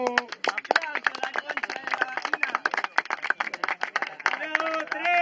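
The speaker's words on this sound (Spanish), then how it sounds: "Aplausos." A crowd claps and cheers at a freestyle rap battle, dense overlapping applause close by with voices shouting over it and whoops that rise toward the end.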